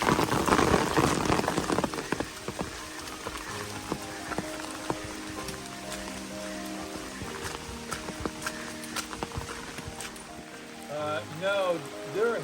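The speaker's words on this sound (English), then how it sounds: "even though it's raining" Rain patters steadily on an Appalachian Trail path in the mountains, a dense, even hiss throughout, with a few brief louder tones near the end.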